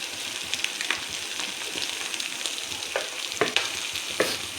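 Prawns fry with coriander powder being stirred in, a continuous close sizzle broken by several sharp scrapes and taps of the spoon against the pan, with no talking.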